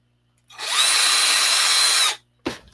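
A power drill runs in one steady, loud whine for about a second and a half, then stops; a brief short burst follows right after.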